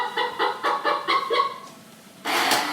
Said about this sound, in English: Every time I do a live stream, our chicken cuckoo clock goes off